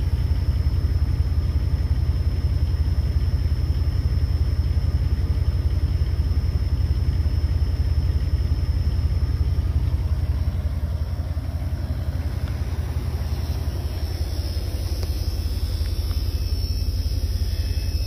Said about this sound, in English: I decided to go ahead and try and start the van